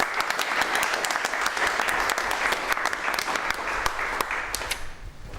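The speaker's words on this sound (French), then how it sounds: "ils méritent nos applaudissements." An audience applauds award-winning apprentices at the Meilleurs Apprentis de France prize ceremony in Aveyron, with dense, steady clapping throughout that thins out and fades near the end.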